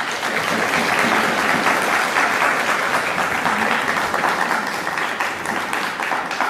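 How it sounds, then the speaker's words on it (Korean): Sustained applause from a sizable church congregation during a Sunday service, steady and loud throughout with no voices breaking through. "박수로 한번 환영하겠습니다."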